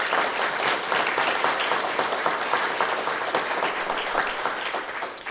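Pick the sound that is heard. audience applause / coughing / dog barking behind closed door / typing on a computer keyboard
audience applause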